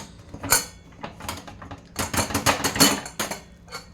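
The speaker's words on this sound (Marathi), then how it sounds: "कुकर उघडून बघूया आपला भात कसा रेडी झाला" Clattering metal clinks and scraping of a pressure cooker lid being handled and lifted, in quick irregular bursts, close by with no talking, revealing cooked spiced rice.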